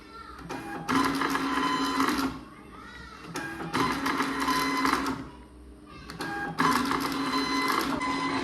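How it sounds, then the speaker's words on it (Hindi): A printer whirs and clatters through three separate bursts as sheets feed out, with quieter pauses between each run. "तो सारे प्रिंट एक बार निकाल लेते हैं फटाफट"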